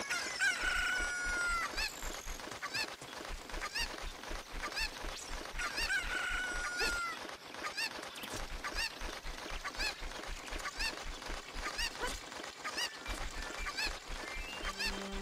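Cucco chicken from the video game Zelda: Ocarina of Time 3D, repeated clucking and crowing calls over looping game music with a steady beat, loud and close with no voices.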